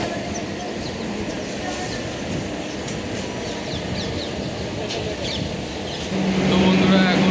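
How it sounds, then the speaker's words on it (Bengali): A suburban train rolls into Dum Dum Junction after leaving Dum Dum Cantonment, a constant loud rumble of wheels and carriages that grows heavier toward the end as it draws in, with no talking. "ট্রেন আমাদের ছেড়ে দিল।"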